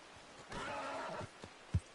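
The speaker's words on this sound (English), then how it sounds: "There's my horse." A horse whinnies in Red Dead Redemption 2, a clear mid-length neigh followed by a short snort and a brief hoof thud, faint and alone without talk.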